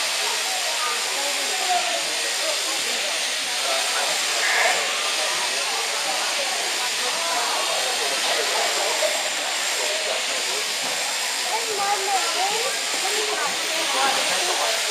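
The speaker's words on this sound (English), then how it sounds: "This type of shearing is called the long blow. A blow being a stroke of the shearer's handpiece." Steady buzzing hiss of a shearer's electric handpiece clipping wool from a sheep during a shearing demonstration in Perth, Australia, running continuously for the full stretch with faint background sounds.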